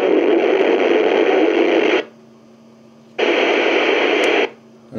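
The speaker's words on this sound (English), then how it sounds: "I'd get nowhere because of this interference" Interference on the 2 meter amateur radio band in Brixham comes through a receiver as loud hissing static, cutting out into near silence and then returning in a second long burst.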